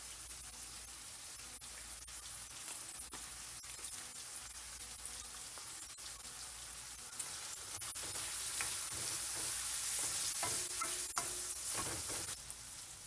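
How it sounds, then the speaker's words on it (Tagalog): Tenderized pork with pepper sizzles steadily in a pan for a Filipino ginisang pechay dish, with a constant bright hiss that grows louder partway through and scraping stirring strokes on top. "Ngayon, ilalagay na natin yung ating pork kanina na pinalambot natin. Lalagyan lang natin ito ng pepper."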